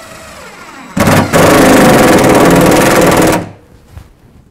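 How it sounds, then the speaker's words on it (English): A power drill drives screws into GoBoard tile backer board in a loud, close burst of about two and a half seconds that starts with a brief stutter and winds down quickly, followed by quiet handling noise. "I'm going to go ahead and screw the screws in there"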